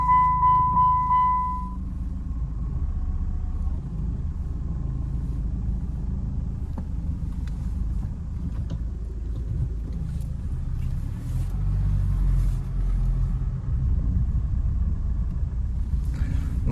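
Chrysler PT Cruiser with a 2.0 or 2.2-litre diesel engine and five-speed gearbox driving along, heard from inside as a steady low engine and road rumble throughout, with a brief tone at the start.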